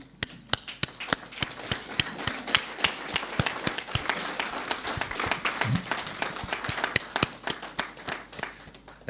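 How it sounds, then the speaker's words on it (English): A standing audience at a conference session on climate change and armed conflict in Eastern Africa applauds a speaker, with sharp, distinct claps in a sustained, moderately distant round lasting about nine seconds. "I request that we all rise and give a round of applause to Professor Shem."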